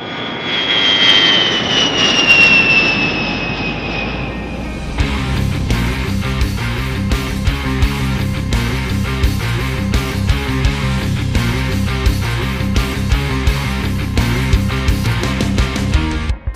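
An A-10 Thunderbolt II jet landing on the dry lake bed at Edwards Air Force Base: a loud, falling whine of turbofan engines, then a rumbling roll with rapid rattling pulses, close and continuous without talk.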